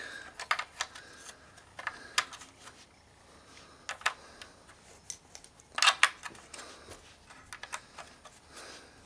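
Plastic toy building bricks for a toy guitar clicking and snapping into place, a scattered series of small, sharp, close ticks and clacks of varying loudness with no talking.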